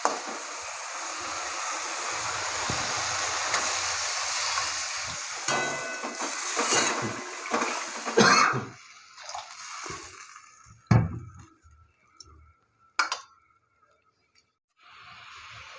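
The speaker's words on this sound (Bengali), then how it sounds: "এখন দিয়ে দেবো জল।" Water poured into a pan of oil-fried spices for Bengali Bata fish curry, hissing and splashing loudly at first, then the sizzle subsiding into scattered bubbling and a few clanks before quieting.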